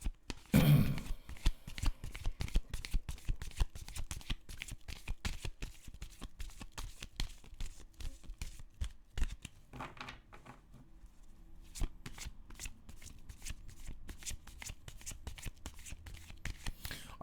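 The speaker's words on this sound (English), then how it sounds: "I really do appreciate your patience during the shuffle." Tarot cards being shuffled in rapid riffles and flicks, a steady stream of crisp snaps that pause briefly near the middle, close and fairly quiet.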